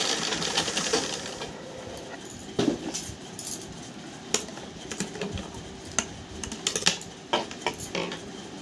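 A sewing machine stitches silky blouse fabric from the reverse side, giving a close, light mechanical whir with quick ticking taps and small clicks in short bursts, no voices over it.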